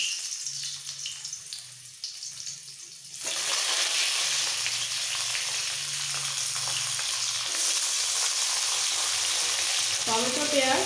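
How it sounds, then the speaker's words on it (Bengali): Tomatoes and onions drop into hot oil for a mixed vegetable dish, setting off a loud sudden sizzle after a quiet start that crackles steadily on with occasional stirring. "টমেটো পেঁয়াজ সবাই তেলের মধ্যে এখন দিয়ে দেবো।"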